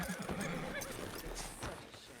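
A horse in the Western game Red Dead Redemption 2 gives a faint clip-clop of hooves and a brief whinny, with background voices and ambient game sound.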